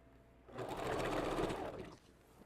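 Close sewing machine back-stitching on a wig cap, one steady motor run of about a second and a half that starts and stops cleanly against a quiet room.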